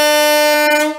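A marine air horn fitted to an Audi A3 1.8 Turbo gives one loud, close, sustained blast of about a second before cutting off.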